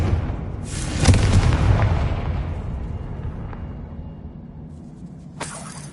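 A loud boom from the Confringo fire spell in the Hogwarts Legacy game, with a sharp burst and a long rumbling decay, then a brief second crack near the end.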